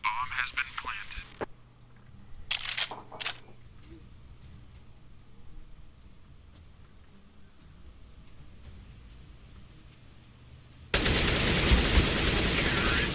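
Bursts of automatic rifle fire in Counter-Strike: Global Offensive on the Inferno map, clustered in short sprays early on, then sparse faint pops over a steady low hum, ending in a loud burst of broadband noise.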